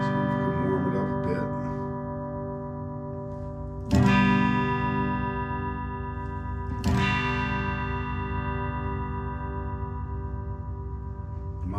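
Electric guitar played through a new tone-shaping effects device on its bright treble setting, sustained ringing chords with two hard strums standing out, loud and close with no talk.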